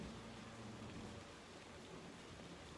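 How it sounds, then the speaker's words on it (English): A summer rainstorm makes a steady, dense wash of rain. The hiss stays even and unbroken through the whole short stretch, with no voices. "Just a summer rainstorm."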